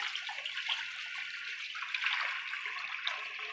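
A steady, soft wash of water pouring into a pan while cooking pancit, with garlic, onion, soy sauce and pepper already in; a continuous faint splashing stream with no voices.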